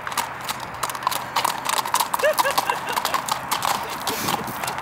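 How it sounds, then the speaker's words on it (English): Horse trotting nearby, hooves clip-clopping in a quick, even two-beat rhythm, fairly faint, with a brief whinny in the middle and soft background noise. "So the trot's really important. Especially for a horse like this."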